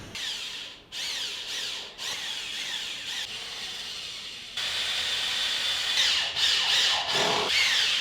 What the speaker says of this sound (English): now I just need to screw in those two pieces